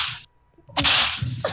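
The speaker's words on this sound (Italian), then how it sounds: "Era uno starnuto." A single sharp sneeze bursting out after a short quiet gap, with a quick intake and loud explosive release close to the microphone.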